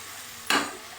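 Methi bhaji is stirred in a pan after salt is added, giving one short, close scraping swish against a quiet background.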